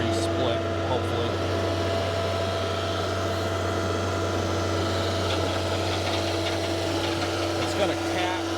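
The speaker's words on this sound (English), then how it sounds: "It's got a cat diesel. I don't know if you can pick me up over the engine noise." A Dyna firewood processor powered by a Cat diesel engine runs at a steady, loud drone with a strong constant hum, continuous and unbroken from start to finish.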